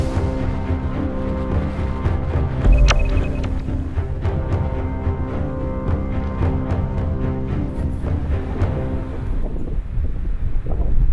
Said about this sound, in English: The wind is just unimaginably strong